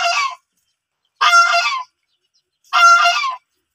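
Three loud, nasal goose honks, each about half a second long, come close by with short silent gaps between them.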